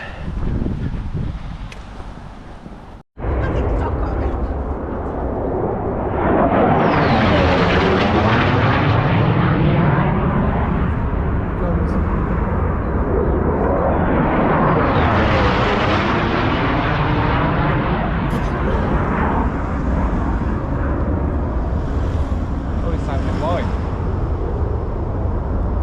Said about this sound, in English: Jet action this morning